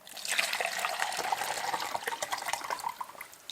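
Water is dumped out of the clean reservoir of a gravity water filter, making a close, continuous splashing pour with bubbly gurgles that taper toward the end.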